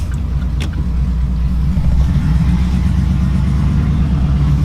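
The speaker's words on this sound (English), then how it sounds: "Alright, so I'm gonna be pulling away from a stop sign." Straight-piped 2008 Chevrolet Silverado with headers pulling away from a stop sign: a deep, loud, steady exhaust rumble that builds slightly as it rolls off, close and continuous with no talking.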